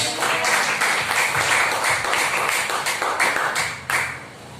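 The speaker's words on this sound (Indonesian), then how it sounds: "Coba beri tepuk tangan buat Tuhan Yesus." A charismatic church congregation breaks into applause during a sermon, a dense burst of many hands clapping that swells and fades over several seconds, fairly close and loud.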